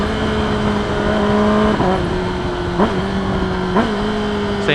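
A remapped, dyno-tuned Kawasaki ZX10R motorcycle with an aftermarket exhaust revving hard through quickshifted upshifts: a loud, close, rising engine note is cut by three quick shift blips about a second apart, each followed by the pitch climbing again.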